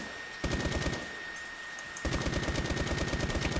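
Automatic weapon fire in the first-person shooter S.K.I.L.L. Special Force 2, team deathmatch on a desert camp map: two rapid sustained bursts of shots, the second longer, fairly close with a brief pause between them.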